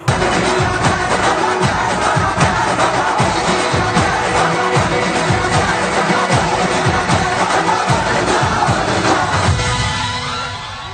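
Dense, loud applause from a wedding sangeet audience at a hotel ballroom, cheering and clapping for a children's carnival act taking the stage, a continuous roar of hands with whoops that fades slightly at the end.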